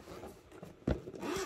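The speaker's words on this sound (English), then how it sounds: "I like that the zipper has two zips on it." Zipper on a diamond painting storage case pulled in a short, close scraping burst partway through, with quiet handling noise around it.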